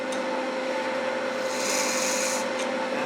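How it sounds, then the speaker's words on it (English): A wooden salt shaker is drilled out while it spins on a lathe, giving a steady, close rasping and grinding that runs the whole time and swells louder partway through. "So, again, I can do it without drilling it, but I love to drill it"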